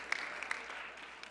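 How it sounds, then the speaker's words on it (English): Scattered applause at the White House Correspondents' Dinner, a faint wash of clapping with a few sharper claps, in a large room and without speech. "don't hold the applause in. Let it out, let it out."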